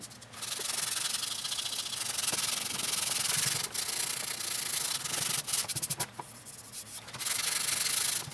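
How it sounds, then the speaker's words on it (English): Abrasive sanding scrapes steadily across a Gibson Les Paul Studio guitar body, rubbing epoxy grain filler off the top in repeated close strokes with brief pauses. "I'm trying to catch what I'm sanding the z-poxy out of there, off the top."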